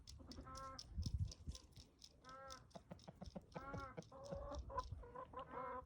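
A Partridge Brahma rooster clucks in a run of short, bright, harmonic calls with brief pauses between bursts, close and fairly loud, with low background rustling underneath.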